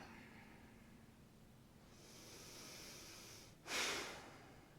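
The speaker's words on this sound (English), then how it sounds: "Breathing long and deep." Slow, deep breathing while lying on the back at the close of a kriya yoga session: soft, drawn-out airy breaths, with a sharper, louder exhale or sniff near the end, heard alone and close.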